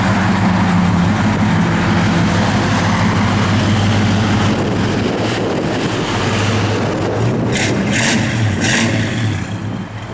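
A 1964 Ford Falcon convertible's engine runs steadily nearby, a continuous low rumble partly masked by wind buffeting on the microphone, with no talk over it.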